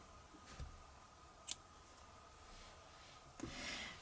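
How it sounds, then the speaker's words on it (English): Scissors snipping crochet yarn, a few quiet, separate crisp cuts spaced apart against a faint steady background hum. "I grab my needle and my scissor and I cut the yarn"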